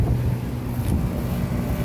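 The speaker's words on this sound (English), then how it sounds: "That one at least it's got a really nice fan motor." A 2017 York 4-ton air conditioner's fan motor runs with a steady low hum and airy whoosh, continuous and fairly close, with no talking.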